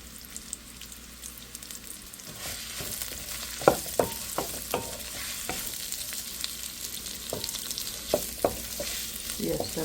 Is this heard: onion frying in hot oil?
yes